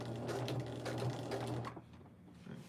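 A sewing machine with a walking foot stitches quilt binding, a steady close mechanical whir running about two seconds before it slows and quiets near a corner, with no talking.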